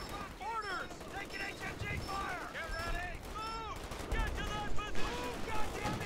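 Machine-gun fire rattles through a 4v4 Company of Heroes battle in bursts, mixed with other battlefield effects, shouts and whistling sounds, growing louder toward the end.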